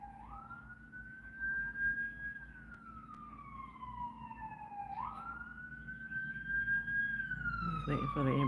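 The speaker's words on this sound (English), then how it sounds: "Waiting for the ambulance to go by." A wailing siren sweeps slowly up and down in long glides, loud and close, over steady traffic rumble as an emergency vehicle passes.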